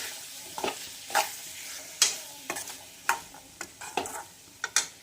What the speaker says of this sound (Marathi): तर यावर घालून घेऊया आपण मॅगी मसाला जो चवीला अप्रतिम लाग आणि याला छानपैकी असं फ्राय करून घ्यायचं आहे